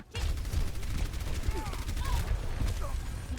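Rapid, dense gunfire from an Overwatch competitive match: a loud, continuous barrage of shots and explosive bursts with sound-effect chirps, steady throughout, with a voice talking over it.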